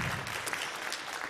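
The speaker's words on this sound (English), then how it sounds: "Can we just give Tim a round of applause?" Audience applause for Tim, a steady, dense wash of clapping from a crowd, fairly faint and unbroken for the whole moment, with no voices over it.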